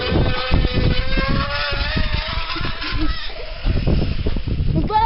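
Bicycle rigged to imitate a motorcycle engine, giving a loud, continuous buzzing rattle at close range that rises and falls in intensity with the pedalling, with brief voices in the background.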